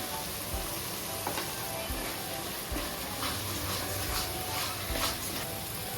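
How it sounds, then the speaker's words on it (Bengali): Spice masala frying in a pan with salt and turmeric added for a chicken curry, giving a steady, dense sizzle with occasional stirring scrapes, close and continuous throughout. "মশলাটাকে এখন ভালো করে কষিয়ে নেব আমি দিয়ে দিচ্ছি লবণ হলুদ"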